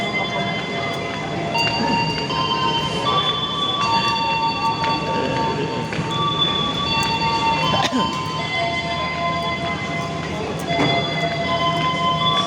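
A panoramic passenger train runs toward Pangandaran with a constant rolling rumble and thin, high wheel squeals drifting above it, while passengers talk nearby.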